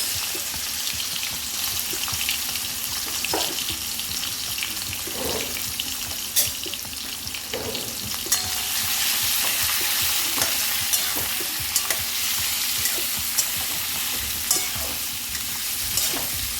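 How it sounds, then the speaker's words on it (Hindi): Prawns frying in hot oil in a kadhai while being stirred, giving a steady, close sizzle with scattered clicks and scrapes of the utensil throughout; no one speaks. "प्रॉन है इनको हम डाल देते हैं फ्राई करने के लिए"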